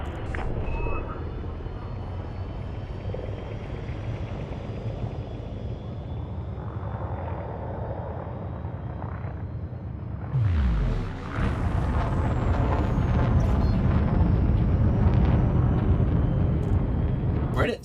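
A spaceship departs a station in Elite Dangerous, a steady mechanical hum that surges into a loud roaring thrust midway and keeps building, with speech over parts of it.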